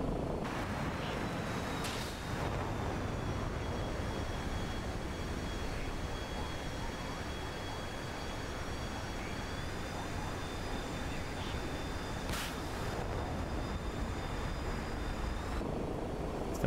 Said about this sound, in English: Still making helicopter sounds.